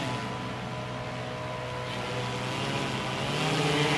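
A Mariner drone hovering nearby, its rotors giving a steady droning buzz with a few layered tones that swell slightly louder toward the end.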